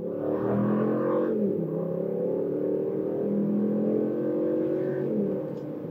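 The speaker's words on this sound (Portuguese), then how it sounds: "Acelerando e saindo. Você vai ver que a gente sai contando um pouquinho de pneu aqui." A RAM Classic V8 pickup truck accelerates hard from a launch start, its engine roaring loud and close with rising revs and a brief shift dip, the strong drone sustained throughout with no talking.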